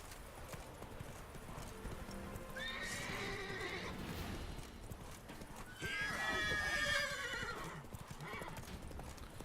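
The horse Roach gallops in The Witcher 3, steady clip-clop hoofbeats with two loud whinnying neighs, close and continuous, alongside some speech.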